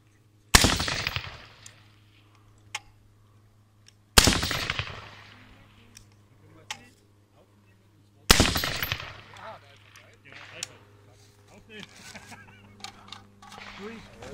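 Three sharp, loud rifle shots from a Heckler & Koch HK243, spaced about four seconds apart, each followed by a decaying echo, with faint voices and light handling noise between them.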